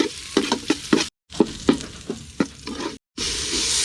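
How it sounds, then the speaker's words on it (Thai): Garlic stir-fried in vegetable oil in a pan over a charcoal stove while cooking a northern Thai curry: a steady close sizzle broken by repeated scraping stir strokes, with two brief drop-outs. "คั่วกระเทียม มันหอมๆกันเลย"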